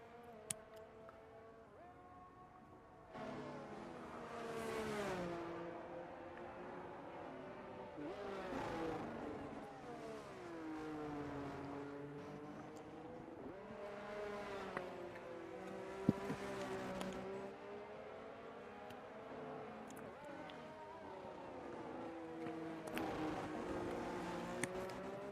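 Race cars in a sim racing championship round at Brazil lap the track, engine tones rising and falling in pitch as cars pass at moderate distance, a continuous layered drone with one brief sharp click midway.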